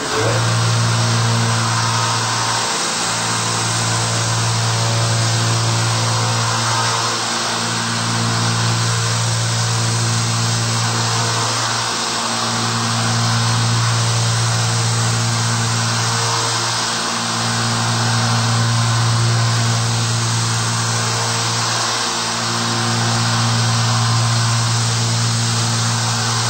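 Steady, loud motorized whine with a regular pulsing hum, like a powered abrasive running while a broken-tipped knife is sharpened on 800 grit, continuous and close with no talk.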